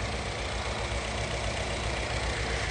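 A car engine idles with a steady, even rumbling hum, close and fairly loud, unchanging throughout with no voices.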